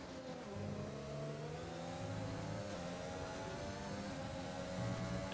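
F1 race cars at the Spanish Grand Prix in the F1 2020 video game, with engines droning continuously at high pitch, rising and falling as they rev through gears, fairly quiet overall.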